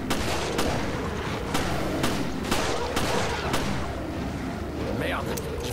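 Gunfire in the survival horror game Resident Evil Revelations, evenly spaced heavy shots cracking over a dense, loud rumbling game soundscape, with speech mixed in.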